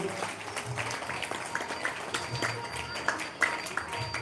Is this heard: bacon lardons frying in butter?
no